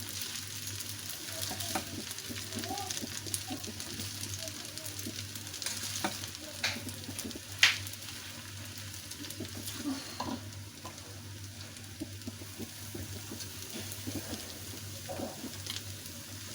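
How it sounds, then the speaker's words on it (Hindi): Chicken tikka spaghetti being stirred in a pan over a low flame, with a steady quiet sizzle and soft scraping strokes continuing throughout, plus one brief sharp clink partway through. "ये देखिए इसको अच्छे से मैं मिक्स कर रही हूँ लो फ्लेम पे।"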